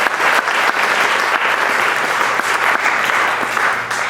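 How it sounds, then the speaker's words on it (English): A live audience claps for a group of singers at a music performance, steady dense applause filling the space, loud and close, without speech. "Ladies, deserve another big round of applause."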